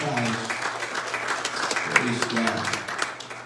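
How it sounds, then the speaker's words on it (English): A church congregation claps their hands during a sermon, a steady mass of clapping with a low hum and murmured voices mixed beneath it. "If you're thankful, would you clap your hands to the Lord Jesus Christ?"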